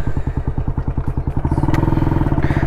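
A new 100cc Bajaj motorcycle pulling away, its single-cylinder engine thumping in a fast, even beat that speeds up toward the end. The engine is loud and close, with a brief clatter partway through.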